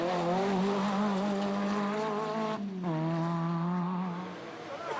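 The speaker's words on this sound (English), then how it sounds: "Thierry Neuville and his little four-wheel drive Citroën Visa were fastest on the Clementine" A little four-wheel drive Citroën Visa rally car racing at the Legend Boucles de Spa, its engine note droning loud and steady, dipping briefly as it shifts before climbing again.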